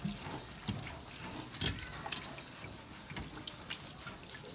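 Vegetables rinsed under a running tap in a home kitchen, a steady splashing water stream with occasional louder drips and splashes, fairly close and continuous, no talking.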